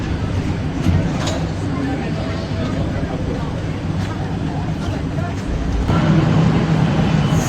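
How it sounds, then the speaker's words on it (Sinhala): Busy ambience inside Milan's railway station, a steady wash of crowd murmur, footsteps and distant rumble that swells slightly near the end, with voices talking throughout. "අපි දැන් ඉන්නේ මිලානෝ රූම් ස්ටේෂන් එකේ."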